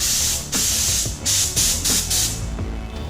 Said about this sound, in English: get my gun ready, and start spraying